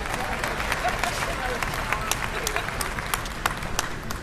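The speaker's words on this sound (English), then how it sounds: "So please give a big round of applause and welcome for Mr." A crowd applauds to welcome a deputy mayor at an arena topping-out celebration, the clapping broad and steady with sharp individual claps standing out, and murmured voices mixed faintly underneath.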